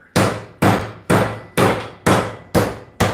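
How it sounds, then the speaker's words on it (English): Skirt steak being pounded with a meat tenderizer, seven loud, close, evenly spaced thumping strikes about half a second apart, each ringing briefly before the next. "Tenderizing the skirt steak from a physical process here"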